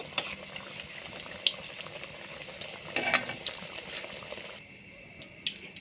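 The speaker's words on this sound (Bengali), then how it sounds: "তেলটা গরম হলে আমি একটা একটা করে ভেজে নেব" Potato cutlets frying in hot oil, a continuous close crackling sizzle with scattered pops and a brief louder burst near the middle, no talk.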